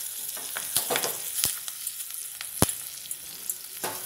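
Curry leaves hit hot oil in a pan for majjige huli, giving a soft background sizzle broken by several sharp pops and crackles spread across a few seconds.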